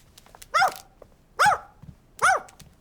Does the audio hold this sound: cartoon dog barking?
yes